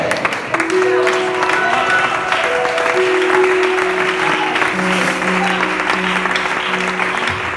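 A church congregation in La Mina, Barcelona, applauds during a sermon, sustained, fairly loud clapping mixed with sustained keyboard tones and some voices underneath.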